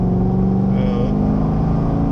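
Loud exhaust of a 2009 Chevrolet Corvette C6 3LT rumbles in a deep steady drone as heard from inside the car, with a brief higher whine partway through.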